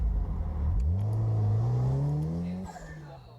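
A turbocharged car accelerates away, its engine note climbing steadily in pitch before easing off as it pulls into the distance.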